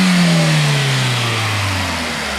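A car engine runs smoothly with no misfire, settling from a revved, rising tone down to a steady idle over a couple of seconds, close and loud with no talking.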